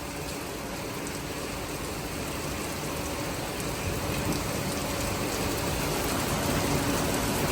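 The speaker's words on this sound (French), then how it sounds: "Le genre de pluie qu'on vient de se prendre." Heavy rain pours steadily in the Pyrenees mountains, a dense unbroken hiss that swells slightly louder toward the end, with no voices.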